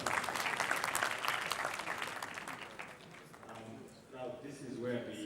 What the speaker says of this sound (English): a very big hand clap for the panel.